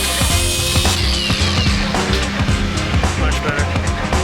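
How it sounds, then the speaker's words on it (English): A power tool grinds away metal on a welded part of a 50HP Power Wheels build, sounding harsh, continuous and close, with rattling, chattering pulses throughout. "So I'm gonna grind that away real quick."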